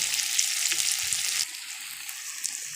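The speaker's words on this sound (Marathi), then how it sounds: "बघा किती सुंदर आपली अंडी परतून निघाल्यात अगदी मसाला बी पूर्ण परतून निघाला आहे" Stuffed eggs coated in masala fry in a pan with a steady, close, bright sizzle that stays constant throughout and eases slightly partway through, with no voices.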